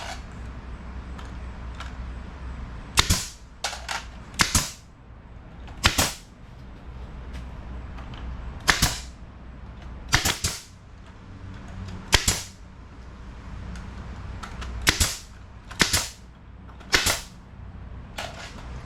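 A staple gun fires into pallet wood while an Adirondack chair is built: about a dozen sharp, loud snaps come singly and in quick pairs at irregular intervals over a quiet background.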